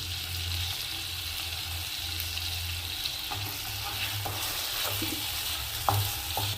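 Paneer cubes fry in a pan with salt, chilli powder, masala and kasuri methi for a hotel-style paneer dum biryani, giving a steady, close sizzle broken by a few sharp utensil clicks near the end.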